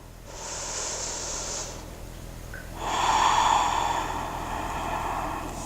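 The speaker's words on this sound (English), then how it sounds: "Breathing just a little bit deeper." Deep, slow breaths during a yoga session for digestion: a long airy exhale, a pause, then a louder, rougher breath with a nasal snort-like quality, heard close up with no talking.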